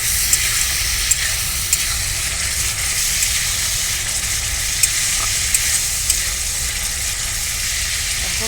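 Spices frying in a pan for a gourd kofta curry, a loud, even sizzle that lasts throughout, with a few faint clicks of a stirring utensil now and then.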